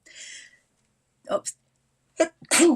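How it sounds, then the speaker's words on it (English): A single sharp sneeze bursts out, followed by a brief exhale, then a short voiced sound, close and fairly loud. "Sorry, I had to sneeze."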